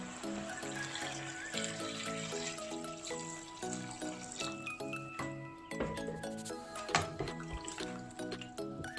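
Plain water is poured into a pot of meat while cooking Nigerian fresh fish white soup, a faint liquid splashing and clinking heard beneath louder background music.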